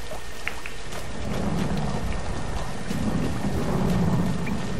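Steady downpour with low rumbling thunder in the Tomb Raider video game, a dense continuous wash of rain with a deep roll swelling underneath, no voices.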